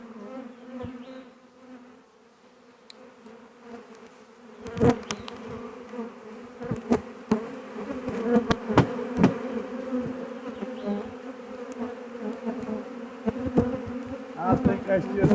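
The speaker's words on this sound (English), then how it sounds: "lots of bees there." A honey bee swarm hanging on a trap frame gives a steady, dense droning buzz throughout, with sharp knocks and thumps around the frame breaking in from midway.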